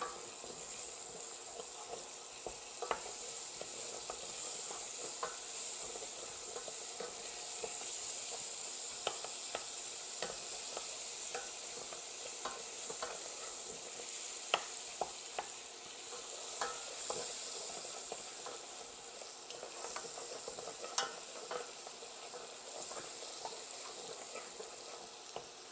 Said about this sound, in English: So I'm going to add 40 milliliters or 3 tablespoons of butter to the pot and let it melt.